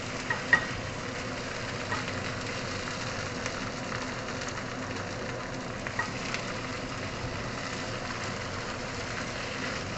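Ingredients frying in a pan give a steady, dense sizzle and crackle for the full stretch, with a few small pops and stirring clicks near the start and no talking.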